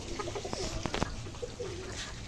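Chickens drinking water on a rooftop with other birds nearby give soft clucks and coos, with a few sharp louder calls near the middle, heard close over steady background noise.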